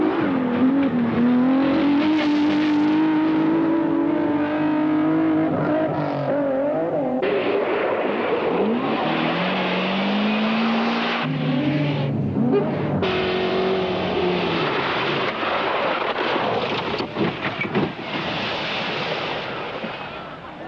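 Rally cars race on a precipitous backcountry special section of the 1987 Hong Kong-Beijing Rally, their engines a continuous loud roar that rises and falls in pitch as they accelerate, with wind-like rushing underneath.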